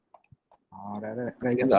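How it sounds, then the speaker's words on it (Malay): A few quick, light clicks from pressing the P key on a computer keyboard while working in Final Cut Pro, close and brief, followed by a voice speaking. "Tekan P kat keyboard dan asingkan dulu."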